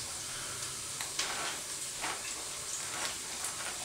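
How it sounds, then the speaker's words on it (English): Onions caramelizing in a pan give a steady, fairly loud sizzle and hiss with small crackling bursts, heard alone and without talk. "Don't forget about your onions though, they are still caramelizing."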